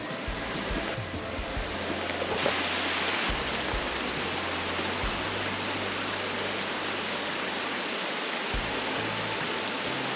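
A waterfall in Tasmania spills over rock into a river below, giving a steady, broad rush of falling water that stays even and continuous, with low rumbling underneath and no voices.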